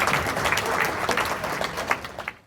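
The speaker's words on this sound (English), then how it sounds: "Everybody in this room deserves a round of applause" An audience at a haunted attraction industry awards gathering bursts into loud, dense applause, many hands clapping together for a couple of seconds before it cuts off abruptly.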